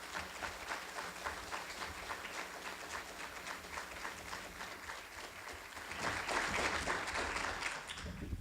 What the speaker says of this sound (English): As they take the stage, a round of applause.